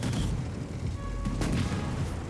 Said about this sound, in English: And then the big explosion.